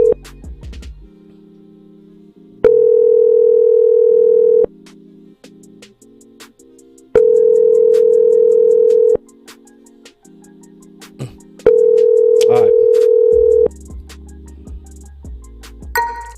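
Phone line ringing out unanswered during a live call-in show, three long steady electronic ring tones of about two seconds each, separated by pauses with quieter background tones underneath.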